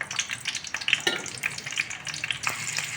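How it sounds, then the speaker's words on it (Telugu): Chopped onion drops into hot oil in a kadai, giving a bright, fluttering sizzle that swells and eases in uneven bursts, close by with sputtering crackles and no speech. "1 ఆనియన్ కట్ చేసుకుని వేసుకోవాలి."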